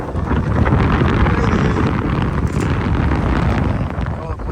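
Steady wind buffets an outdoor microphone on a summer day among wild birds, a loud, continuous rumbling roar with no pauses that masks most other sound.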